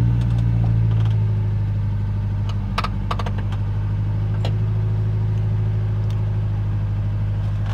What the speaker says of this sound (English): So let's hear the vehicle a little bit.